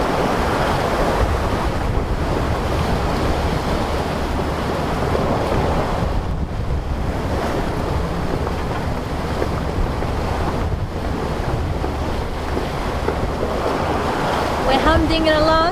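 A sailboat heading north toward the tip of Madagascar in 25 to 30 knot winds: a loud, constant roar of wind buffeting the microphone over crashing waves and rushing sea water.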